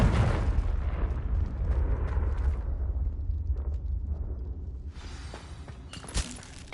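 A Confringo blast spell goes off in Hogwarts Legacy, a loud, broad rumbling explosion that slowly fades, followed by a sharp burst near the end.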